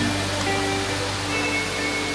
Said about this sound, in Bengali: রূপসী ঝর্ণা কি গর্জন তার কি শব্দ শো শো করে